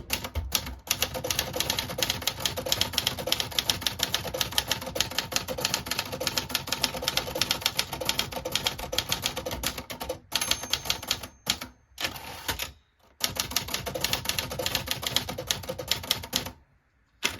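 A 1969 Olivetti Valentine typewriter with an elite script typeface is typed on rapidly at close range. Crisp, dense keystroke clatter runs steadily, broken by a few short pauses near the end.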